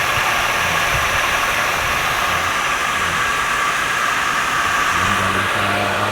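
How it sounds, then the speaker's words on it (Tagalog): An electric motor being repaired, fitted with an on-off switch, runs as a steady loud mechanical drone with a constant hum and no variation, and no one talks over it. "Ito ang makina niya guys."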